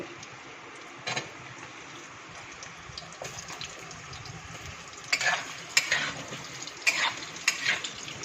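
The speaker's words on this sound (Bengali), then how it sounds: "আলুটা ভেজে নিচ্ছি, এর সঙ্গে আলুটা একটু ভালো করে ভেজে নিই" Potatoes fry in a karai for khichuri while a spatula stirs them, giving a steady low sizzle broken by sharp scraping strokes, one early and a cluster in the final few seconds, close and with no talking.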